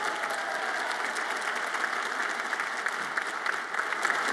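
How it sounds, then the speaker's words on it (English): Audience applause at a community college commencement ceremony, a large crowd clapping in a sustained, even roar heard from a distance, steady throughout with no voices over it. "Give them a round of applause."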